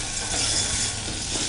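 Vegetables frying in a pan, a dense, even hiss of sizzling oil filling the short moment, close and steady with no voices.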